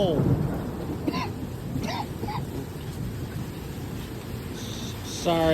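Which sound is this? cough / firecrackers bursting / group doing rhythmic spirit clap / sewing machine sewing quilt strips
cough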